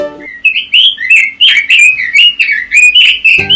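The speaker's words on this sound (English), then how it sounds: "Robins. Burung robin." Robin singing in a rapid, steady run of bright chirps and whistled notes, close and clear with no voices.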